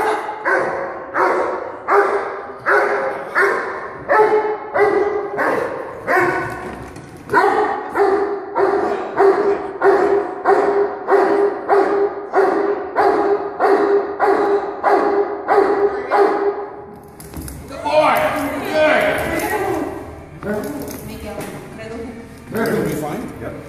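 A tall dog barks in a steady run of repeated sharp barks during training on a round table, loud and close, with a person talking over it before the barking gives way to a brief scuffle.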